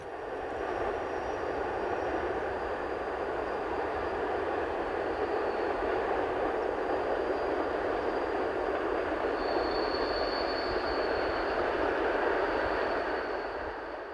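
A freight train rolls along the West Highland Railway in the Scottish Highlands, a steady, sustained rumble and wheel roar holding at an even loudness for the whole stretch, with a faint high whine rising near the end.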